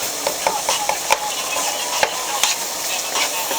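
Onions frying in a pan of flour and oil for turkey neck gravy, giving a steady sizzling hiss broken by occasional light scrapes and taps of a stirring spoon.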